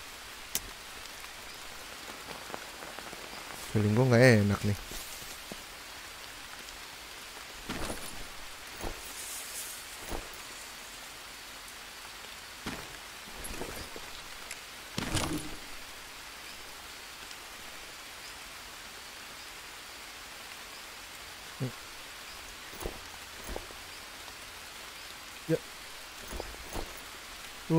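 Steady rain falls in the jungle survival game Green Hell, a soft continuous hiss with scattered drop taps and a brief louder burst, while someone talks over it.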